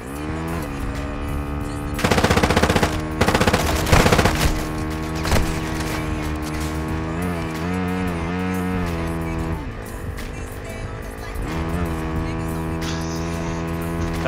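Gunfire in the video game Warzone 2.0 DMZ, loud bursts of rapid automatic shots in two short clusters layered over a steady game soundtrack and engine hum, followed by a few isolated shots.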